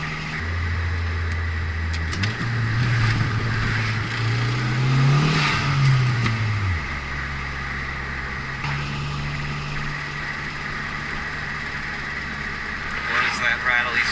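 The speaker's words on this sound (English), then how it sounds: "I got a stuck lifter. Stuck or collapsed. There's a noise. Is that lifter tap?" Car engine with a stuck or collapsed lifter, running and revving up around mid-clip before settling back to idle, with a steady mechanical drone and faint rattly ticking throughout.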